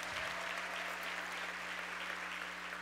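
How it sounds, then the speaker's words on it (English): An audience at a school-district awards ceremony applauds the Chancellor with steady, sustained clapping of a large crowd, fairly quiet and even throughout, with a low electrical hum underneath. "Give him a big round of applause."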